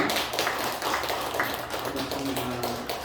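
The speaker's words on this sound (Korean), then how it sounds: "우리 유수호 자매님 일어나셔서 같이 박수로 환영하겠습니다" Church congregation at a Sunday service clapping to welcome a newcomer, a dense steady patter of many hands filling the room at moderate loudness.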